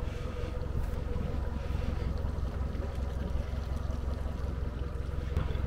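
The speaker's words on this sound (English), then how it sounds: "All right, engine's going." An outboard boat engine runs steadily as the boat backs slowly away from a dock, giving a continuous low drone mixed with wind noise on the microphone.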